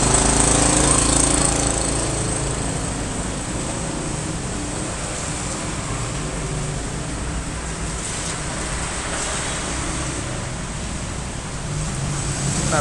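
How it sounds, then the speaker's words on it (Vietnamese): A power drill boring a hole for turn-signal wiring on a Yamaha Exciter 150 motorcycle, a loud continuous grinding whine that holds steady for over ten seconds with no talk. "Chúng ta khoan thêm một cái lỗ nữa, cái lỗ này để luồn cái đường dây điện ra."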